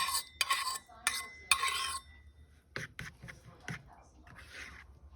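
A spoon beats a rice pudding mixture in a pot in quick, rhythmic scraping strokes, loud bursts at first, then softer, clinking stirs, with no talking.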